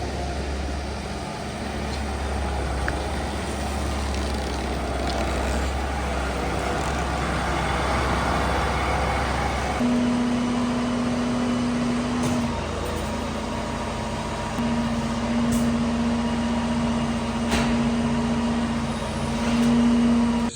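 A large tractor, an 8-8, carries a plough into a farm shed, its diesel engine droning steadily nearby with a rising tonal whine partway through and no talking.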